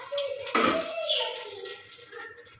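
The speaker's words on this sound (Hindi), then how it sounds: "थोड़ा सा पानी डालेंगे।" Filtered water is poured into a cooking pot in a home kitchen for an okra pickle recipe, with a short splashing gush followed by a fading trickle and drips, close and quiet.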